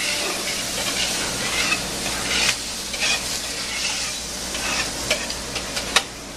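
Bolognese tomato sauce bubbles and sizzles in a pot over high heat while being stirred, a steady close hiss with scraping spoon strokes and occasional sharp clinks, no voices.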